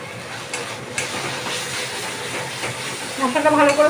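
Spice paste with tomato ketchup sizzles and hisses steadily in a hot pan while being stir-fried for Bengali dhokar dalna, a continuous broadband frying hiss with a louder bubbling burst near the end.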